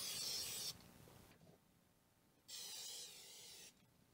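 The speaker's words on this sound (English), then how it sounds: "I'm just using Pam baking spray." Two short hissing sprays of Pam baking spray from an aerosol can onto a 3D-printed fishing lure mold, each lasting about a second, separated by a quiet pause.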